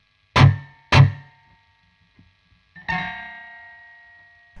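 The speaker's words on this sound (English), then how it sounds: "many guitars will have string noise at the headstock" Two sharp metallic plucks of string noise at a custom guitar's headstock ring out, then a brighter twangy strum with lingering, ringing overtones that slowly decay; no voices.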